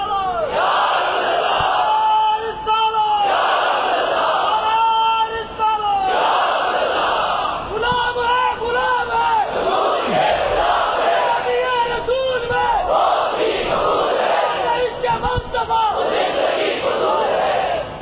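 A large crowd chants religious slogans together in loud, rhythmic surges at a religious gathering, with a leader calling out lines and many voices shouting back in repeated waves.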